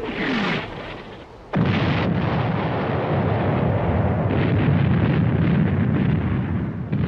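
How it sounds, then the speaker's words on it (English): Heavy WWI artillery bombardment on the first day of a battle, a dense continuous roar of explosions and gunfire rumbling loudly after a short lull, with no voices. "The artillery bombardment on February the 21st was the heaviest in the history of warfare."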